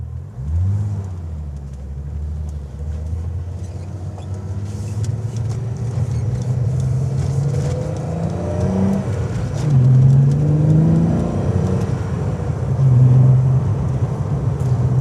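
A 12-valve VR6 engine in a VW Golf MK2, fitted with a BMC CDA air filter, revs up and holds a loud, close rumbling drone, with several rising blips of throttle near the end and no talk.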